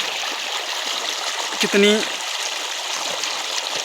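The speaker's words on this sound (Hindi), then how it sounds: "आवाज़ सुन पा रहे होंगे झरने की," A forest waterfall gives off a steady, broad rushing hiss that continues throughout, with a brief voice speaking over it partway through.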